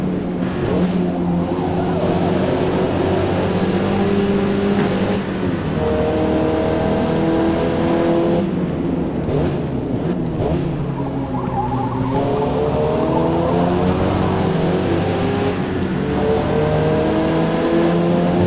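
A Mazda MX-5 engine racing in the Forza Motorsport video game, loud and continuous, its whining note rising and falling through gear changes and throttle shifts with no pause.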